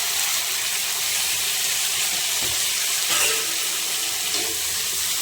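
Onions and tomatoes frying in a pan, a broad steady sizzle with a few soft stirring knocks, fairly close and without talk.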